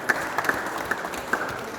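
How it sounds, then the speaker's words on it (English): A few scattered claps ring out at an art exhibition opening night as the audience applauds the sponsors, brief and fairly faint over low room murmur. "Round of applause for our sponsors tonight."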